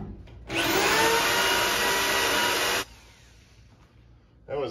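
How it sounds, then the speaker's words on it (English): A power drill bores a hole through steel for a receiver hitch umbrella stand, a loud steady high-pitched whine lasting about two seconds before cutting off, with faint background noise and another burst starting at the end. "We'll drill one hole first, get a hole in there, and then we'll bolt it up"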